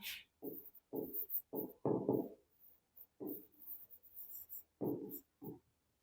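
Pen or pencil writing on paper during a maths lesson, with scratchy strokes in short irregular bursts, close and soft, with no speech.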